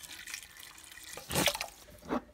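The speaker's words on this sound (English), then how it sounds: "I'm going to add vegetable broth," Vegetable broth poured into a crock pot, making a brief, close liquid splash and gurgle in two short bursts over soft background hiss.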